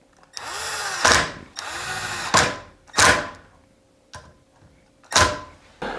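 Cordless power drill driving two screws into a front door latch, with several whirring bursts of rising pitch, each ending in a sharp stop, close and loud with short pauses between.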